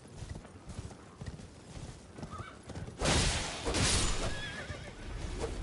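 In the video game Elden Ring, hooves clip-clop along, then a horse gives a loud whinny that stands out above the steady hoofbeats.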